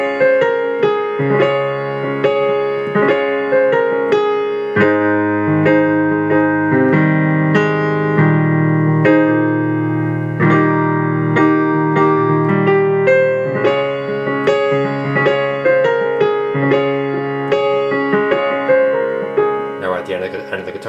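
Piano plays the guitar-solo section of a song high on the keyboard, a continuous, full, ringing passage of chords and melody lasting the whole stretch with no talking.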